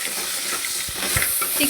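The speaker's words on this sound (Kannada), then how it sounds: "ಈಗ ಇದನ್ನು ಒಂದು 5 ನಿಮಿಷ ಎಣ್ಣೆಯಲ್ಲಿ ನೀಟಾಗಿ ಫ್ರೈ ಮಾಡ್ಕೊಳ್ಳಿ." Small crabs frying in oil in a pan, a loud continuous sizzle with light stirring knocks, close by and without speech, lasting under two seconds.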